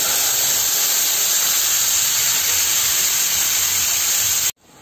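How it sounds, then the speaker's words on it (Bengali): Coconut milk poured into a pan of fried onions for Bengali prawn malai curry, giving a loud, steady hissing sizzle that stops abruptly at the end. "সেই কোকোনাট মিল্কটা আমি এর ভেতরে দিয়ে দিচ্ছি"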